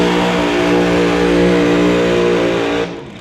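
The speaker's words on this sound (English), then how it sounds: "big-time burnout over there in the Lordco Auto Parts lane" A West Coast Pro Mod drag racing car doing a burnout in the Lordco Auto Parts lane, a very loud sustained engine roar with tire noise that cuts off abruptly near the end.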